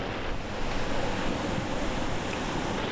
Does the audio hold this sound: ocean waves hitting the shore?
yes